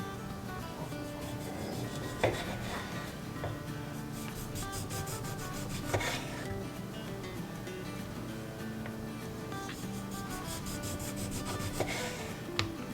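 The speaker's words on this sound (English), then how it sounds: "Then I'm gonna cut out my lemon for slices on top" A knife slices a Meyer lemon into thin rounds on a cutting board, making faint, continuous scraping and rubbing strokes with a few soft taps of the blade against the board.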